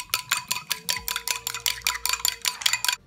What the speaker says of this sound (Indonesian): Ini telurnya kita kocok pakai garpu.